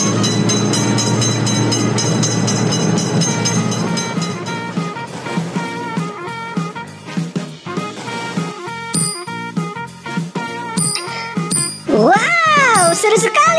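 In a railroad crossing game, a train rumbles past with a loud, steady roar that breaks into choppy clattering bursts. Bright music and sound effects come in near the end, and the scene carries no talk.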